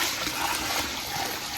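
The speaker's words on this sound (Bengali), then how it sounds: "আবির ধরো যে মোটর চালাই দে য" Water pumped by a motor gushes and splashes steadily, a broad close rushing flow that holds level through the short stretch with no talk.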